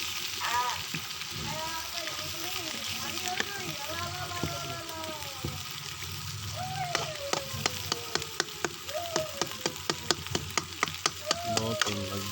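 Beef brain (maghaz), first parboiled, fries in a pan with a steady close sizzle, crackling and popping more sharply toward the end, while a person talks over it.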